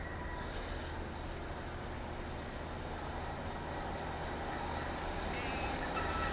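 A steady, low rumble of a train passing at a distance at Teignmouth, with a faint high squeal early on and no clear voices.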